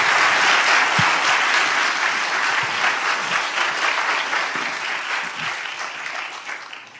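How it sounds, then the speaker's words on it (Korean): Sustained applause from a church audience at a Remnant Day school evangelization gathering, a steady wash of many hands clapping that gradually fades over several seconds. "May you give them a glory applause"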